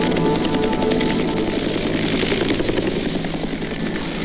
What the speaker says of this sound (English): Army helicopters are loaded for the sentimental journey back to areas that were battered